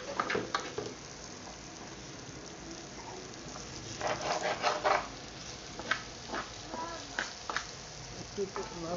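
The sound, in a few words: ash gourd being stir-fried in a pan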